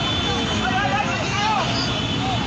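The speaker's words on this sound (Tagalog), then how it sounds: "Helicopter na! Helicopter na!" A helicopter flies overhead during a police shootout at Ever Gotesco Commonwealth, its engine a steady broad roar and drone mixed with background crowd noise and voices.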